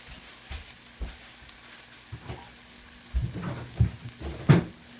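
Eggs topped with half a slice of cheese cook in a pan, giving a soft low sizzle with occasional scrapes and a cluster of louder knocks and stirring sounds toward the end, no talking.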